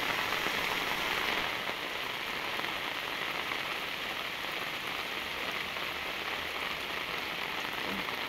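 Steady, dense rain pours down throughout, a continuous hiss of drops striking surfaces at an even, fairly loud level with no voices.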